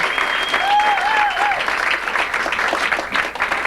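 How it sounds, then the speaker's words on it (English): A live audience claps and cheers for stand-up comedian Marsha Wilkie at an evening variety show. The applause is dense and sustained, with a few whistles over it, and it fades slightly toward the end. "Give her a big fat round of applause."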